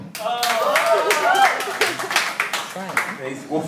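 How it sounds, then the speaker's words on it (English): An audience at a live evening show claps together in a steady burst of applause lasting several seconds, with voices and whoops rising over it. "clap."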